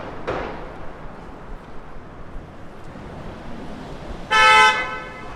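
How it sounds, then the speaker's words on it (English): Moderate street traffic rumbles along Broadway in New York City, broken by one loud, fairly close car horn honk held for about half a second near the end. "It's a good amount of traffic right now."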